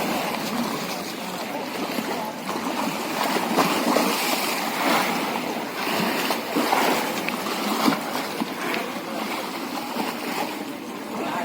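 Sea waves wash and surge continuously along the shore, a steady rushing surf that swells and eases with no distinct breaks.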